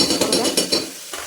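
Onion and tomato fry in a pan. A short burst of rhythmic scraping and stirring over a soft sizzle ends in a near-silent tail.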